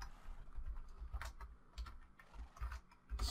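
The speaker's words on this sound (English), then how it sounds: "let's type in a message here" Quick bursts of computer keyboard typing while a message is entered, with short uneven clusters of clicks and key presses up close and no voices.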